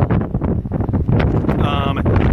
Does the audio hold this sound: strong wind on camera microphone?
yes